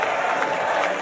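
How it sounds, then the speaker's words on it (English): A stadium crowd at a Mexico v Brazil mini World Cup final applauds an injured player being carried off, a dense, steady wash of clapping and cheering close around. "He gets a round of applause"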